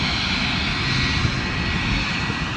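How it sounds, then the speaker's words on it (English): An Icelandair airliner at Manchester Airport gives off a loud, steady engine roar heard from the spotting area, a continuous broad rumble and whine without any talking. "We've arrived and we can see our first airplane, Iceland Air."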